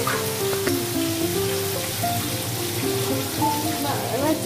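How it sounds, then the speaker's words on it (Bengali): About a kilo and a half of chicken frying in oil over a low flame gives a steady, rain-like hiss and crackle throughout. Faint tonal sounds run beneath it. "আমি এখানে 500 মতন মাংস নিয়ে তেলে সেটাকে ভেজে নিচ্ছি।"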